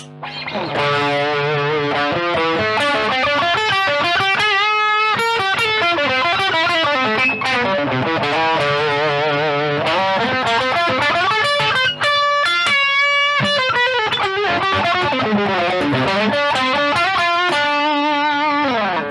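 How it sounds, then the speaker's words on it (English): Heavily distorted electric guitar on the back pickup of a Gordon Smith Classic S, playing continuous chords and riffs, loud and sustained with a thick, saturated tone, no voices. "Let's now have a listen to some distortion tones."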